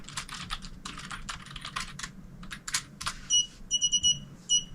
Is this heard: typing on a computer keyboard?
yes